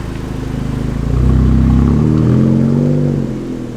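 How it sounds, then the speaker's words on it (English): Honda Civic Type R engine and exhaust rasp building under load, a loud, steady droning tone that swells and rises in pitch partway through before easing off, with no voices. "It does have that nice rasp though. The exhaust is really, it just sounds really good."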